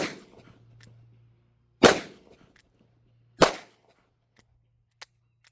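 A .22 Magnum dual-fire revolver is shot outdoors: two sharp, loud cracks a couple of seconds apart stand out against near silence, with faint clicks and a low hum between them.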